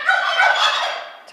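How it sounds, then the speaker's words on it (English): A domestic turkey gobbles in one loud, rapid warbling burst lasting just over a second, close and alone, trailing off at the end. "Then I'll be the proud owner of 6 female turkeys with Morris."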